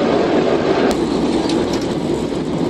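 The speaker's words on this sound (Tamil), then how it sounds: "நல்லா வேகமாக போகுது ட்ரெயின்" A moving passenger train on a rainy journey from Malaysia to Thailand, a loud, dense, steady rumble and rattle of the carriage with faint clicks on top and no voices.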